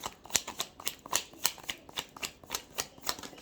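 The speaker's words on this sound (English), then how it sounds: "So one more shuffle." Tarot cards are shuffled by hand in quick, crisp riffles, a rapid run of close, dry flicks and clacks at a steady brisk rhythm.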